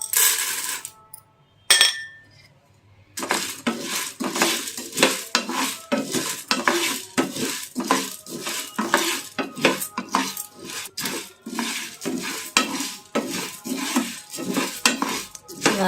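Seeds and chana dal are fried and stirred in a pan. A metal spoon scrapes and clinks in quick, repeated strokes over a close, crackling sizzle, with a short pause near the start.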